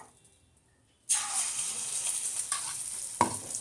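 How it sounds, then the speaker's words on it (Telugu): Spice mixture tipped into hot oil bursts into a sudden loud sizzle after a second of near silence, then keeps crackling steadily with a sharp utensil clink near the end. "అట్లా ఆయిల్ వేడైన తర్వాత ఇది వేయాలి"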